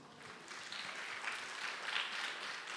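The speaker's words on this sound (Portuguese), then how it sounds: "Aplaudam ao Senhor." Faint, steady applause from a church congregation, a continuous patter of clapping heard at a distance with no talking.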